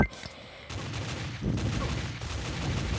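Gunfire in the video game Pixel Gun 3D on a workshop map: dense rapid shots crackle in a continuous barrage, with a sharp burst at the start, while a player talks in between.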